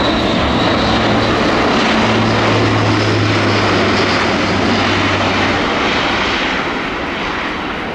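An Airbus A400M military transport turboprop roars loudly overhead at an air show, a sustained, heavy propeller drone that stays strong throughout before easing slightly at the end.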